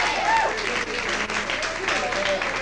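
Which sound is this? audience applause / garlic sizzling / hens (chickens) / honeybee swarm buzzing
audience applause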